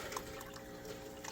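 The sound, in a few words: water filling aquarium chiller reservoir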